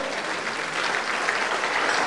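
Steady applause from an evening gathering at Hotel Seedamm Plaza welcoming the hotel director as host, a dense even wash of clapping with no gaps throughout.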